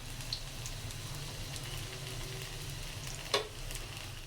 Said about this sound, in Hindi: देखिए इस तरह हमने सारे फ्राई कर लिए।